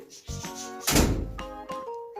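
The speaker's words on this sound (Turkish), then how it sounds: "Kapat Hulusi kapıyı." A door is pulled shut in a children's cartoon scene, landing as one solid thunk near the middle amid faint background tones.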